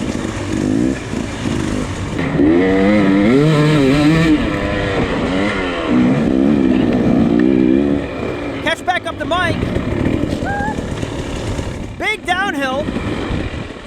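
A hard enduro dirt bike engine revving and bogging on a rough pro race course at the 2019 Tough Like RORR event, loud and close with wavering pitch, followed by sharper bursts of throttle.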